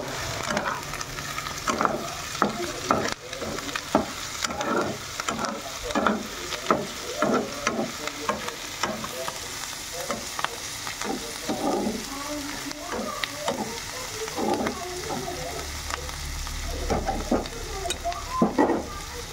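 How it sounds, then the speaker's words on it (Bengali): Mixed vegetables stir-fried with salt and turmeric for chowmein, a steady sizzle broken by repeated scraping strokes of a spatula in the pan, close and fairly loud throughout. "এবার ভালো করে নাড়িয়ে নেব।"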